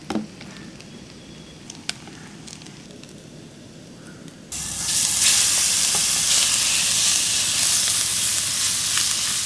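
Chicken pieces for chicken kummatti frying in hot oil, a quiet low murmur giving way halfway through to a loud, steady, bright crackling sizzle that holds to the end.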